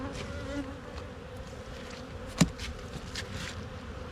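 Honey bees buzz around an open hive as pollen supplement is added, a soft continuous drone with individual bees passing close now and then, one brief louder bump midway.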